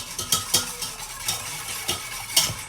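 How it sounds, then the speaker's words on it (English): Milk and a quarter cup of sugar whisked in a heavy-bottomed saucepan, with irregular close metallic taps and scrapes of the whisk against the pan. "I'm going to whisk that well."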